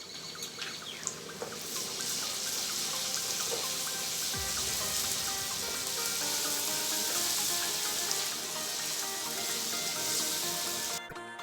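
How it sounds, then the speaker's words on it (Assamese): Onions frying in a pan, a steady bright sizzle that holds evenly for several seconds, with a brief clatter of stirring partway through. "2 মিনিটমান পিঁয়াজখিনি ভাজি ল'ম।"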